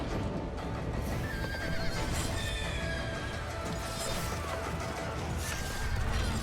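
Horses neigh and whinny over a dense, rumbling battle soundscape in the cinematic trailer for the video game Conqueror's Blade, with hooves and crashing impacts woven through a loud, continuous mix.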